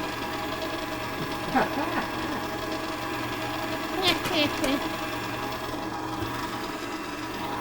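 A Farberware budget stand mixer mixes in flour with a steady, moderately loud motor whir. Voices exclaim and talk over it throughout.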